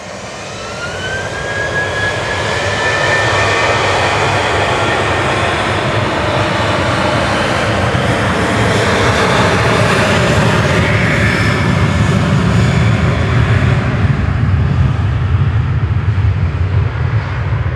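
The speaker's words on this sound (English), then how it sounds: "Ryanair lined up and ready to go to Santander" Ryanair jet departing Manchester Airport for Santander, a loud sustained engine roar rising quickly and holding steady and close as it powers away, with a faint whine early on.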